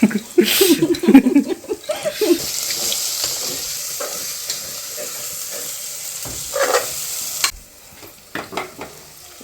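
Ginger garlic paste sizzles in a hot pan, with stirring scrapes and clinks loudest at the start, then a steady softer frying hiss that drops away near the end.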